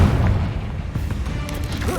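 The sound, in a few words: Confringo spell blast from the video game Hogwarts Legacy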